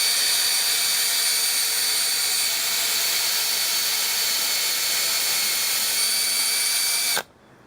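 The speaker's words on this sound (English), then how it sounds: "Then I pre-drill those" A power drill whines steadily at high speed, pre-drilling kiln-dried wood, loud and close, for about seven seconds before cutting off abruptly.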